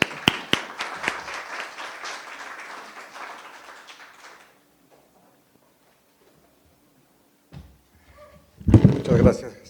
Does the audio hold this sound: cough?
no